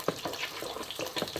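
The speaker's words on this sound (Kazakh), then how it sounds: "Бауырды бұлғаймыз жақсылап." Liver frying in a pan with a steady sizzle, broken by several rhythmic scraping bursts as it is stirred up close.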